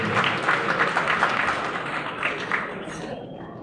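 Loud, sustained applause from an audience at a ceremony honoring Chidambar Sheikh, who runs his own garage; dense steady clapping that fades slightly toward the end.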